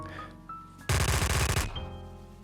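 Burst of rapid automatic gunfire from a weapon in a VR video game, a loud rattling volley lasting under a second, heard alone against a faint musical backdrop.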